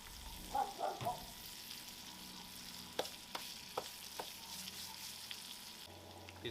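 Vegetables frying in butter and a little oil on a Blackstone griddle, a soft, steady sizzle with occasional spatula taps and scrapes, fairly quiet and close, no talking.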